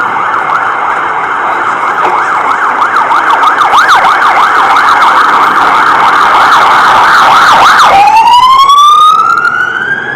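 A loud emergency siren at Bondi Beach, Sydney, wails continuously, its pitch sweeping up and down repeatedly, then shifts into a rising whoop near the end; traffic noise underneath.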